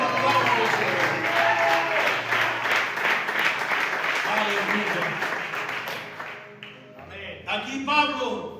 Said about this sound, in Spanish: Dale un aplauso a la palabra del Señor.